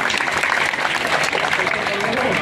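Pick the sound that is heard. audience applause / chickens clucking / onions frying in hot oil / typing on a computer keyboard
audience applause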